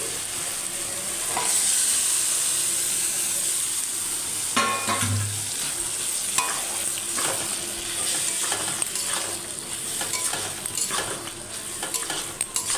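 Pressure-cooked potatoes, peas and coconut added to a fried spice masala for ghugni, steady close sizzling with repeated clinks and scrapes of a spoon against the pan, no talking.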